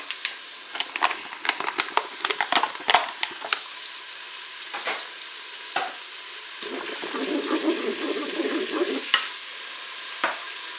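Lardons and chopped onion frying in butter in a Cookeo multicooker pot, a steady sizzle broken by repeated scraping stirs, with a louder bubbling hiss building toward the end.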